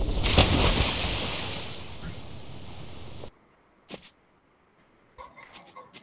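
In the video game Totally Reliable Delivery Service, a character plunges into water with a loud, rushing splash and churning surf that runs for about three seconds, then cuts to near silence with a few faint knocks afterward.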